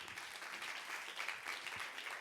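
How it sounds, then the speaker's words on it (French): Audience applause at a science outreach conference, a steady wash of many hands clapping at moderate distance, continuous and fairly soft, with no voices over it. "On vous applaudit."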